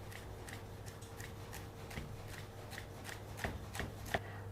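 A knife finely slices rolled fresh basil leaves on a board, a run of crisp, evenly spaced cuts repeating steadily and close by, a few strokes landing harder near the end, with no voices.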